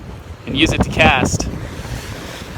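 Strong wind buffets the microphone off the end of a T jetty at Ventura Harbor, with waves washing in the background and someone talking briefly over the gusts.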